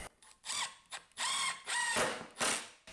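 A power screwdriver drives screws to fasten a cutting guide onto fence rails for cutting vinyl siding, making several close, loud whirring bursts of about half a second each, separated by short pauses.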